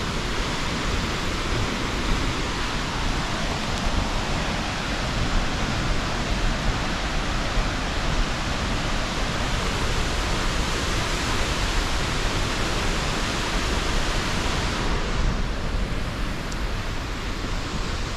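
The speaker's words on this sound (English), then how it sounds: "it's just the rainbow waterfall" Rainbow Falls waterfall in Hilo on Hawaii's Big Island gives a steady, unbroken rush of falling water, a dense even roar that holds at the same level throughout with no voices.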